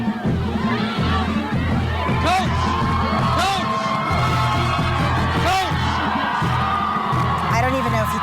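Excited Oklahoma Sooners fans greeting Brent Venables on his arrival in Norman, a dense near crowd roaring continuously with whoops, yells and bellows, voices overlapping without a break throughout.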